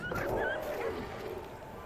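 Dog whimpering in The Pillars of the Earth video game: a short, quiet series of high whines and yelps that rise and fall over a couple of seconds, with faint background sound.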